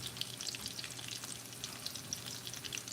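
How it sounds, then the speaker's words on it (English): A pot of salted pasta water boils on the stove, giving a steady, close bubbling and crackling hiss with no talk. "my pasta water is boiling"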